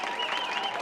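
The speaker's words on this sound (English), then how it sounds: "You can hear the Hibbing crowd likes that." Hibbing football crowd at a high school game cheering a play, a brief burst of roaring and clapping from the stands heard at a distance.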